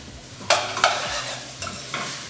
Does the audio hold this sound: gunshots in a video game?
no